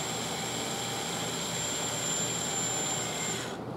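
A small power drill whines steadily at high pitch as it bores a small hole into the top of a turned wooden icicle ornament, then cuts off abruptly.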